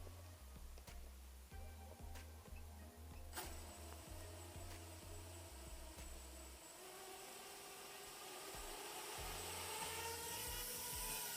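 FPV quadcopter on Gemfan 3-inch props hovering, a smooth steady high-pitched buzz with a pulsing low drone that fades partway through and returns, close and alone.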